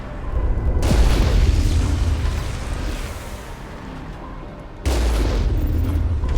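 Explosions and projectile fire from Armatures in the Mass Effect video game, with heavy booming blasts that roll on for several seconds and then a fresh loud burst near the end.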